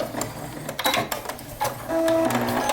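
A sewing machine stitching the last line of blind tucks in fabric, starting with a few handling clicks and then a loud, close, steady mechanical whir of the running machine, with no talk.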